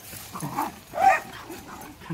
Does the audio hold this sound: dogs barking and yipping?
yes